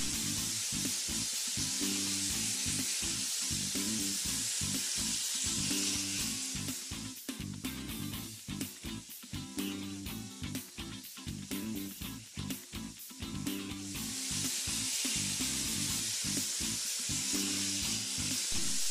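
An abrasive blasting nozzle with SpeedBlast Australian Garnet roars as a loud continuous hiss, with a steady broadband rush that dips and pulses midway before returning to full force.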